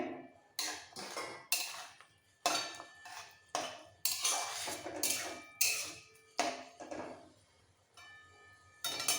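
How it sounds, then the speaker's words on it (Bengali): Spoon and pan clatter as fried okra goes into simmering gravy for a vegetarian okra and potato curry, a close series of sharp metallic scrapes and clinks in an uneven rhythm. "গ্রেভিটা ভালোভাবে ফুটে গেছে ভেজে রাখা ঢ্যাঁড়সগুলো দিয়ে দেবো"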